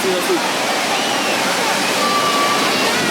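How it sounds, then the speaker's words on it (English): Steady rushing water fills the whole stretch, a broad continuous wash of churning waves and falling water at a water park wave pool at Universal's Volcano Bay, with faint voices mixed in. "This is the wave pool."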